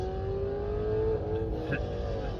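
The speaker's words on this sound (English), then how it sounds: "We got some Camaros playing around on the road ahead of us." Camaro engines rev and roar ahead on a highway, heard muffled from inside a moving electric vehicle over a steady road rumble.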